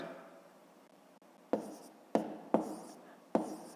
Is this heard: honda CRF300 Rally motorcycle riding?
no